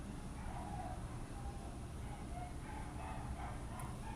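Dogs bark and yip intermittently in the background, faint and somewhat distant, under a steady wash of noise.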